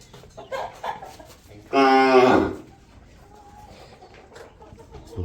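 A cow moos once, loud and close, a drawn-out low call lasting under a second, set amid faint farmyard noise and a few distant bird sounds.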